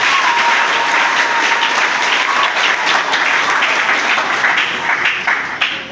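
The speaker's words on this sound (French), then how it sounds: "Acclamons pour le Seigneur." A cathedral congregation applauds together, a dense and sustained roar of clapping that fills the whole stretch at full strength before easing slightly at the very end.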